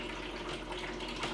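Film developer poured out of a developing tank during C41 colour negative processing, a steady rush of liquid running close by for a moment.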